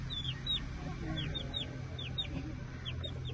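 Aseel chickens clucking in a poultry yard, a steady run of short, close bird calls repeating over a low ambient hum, with no talking.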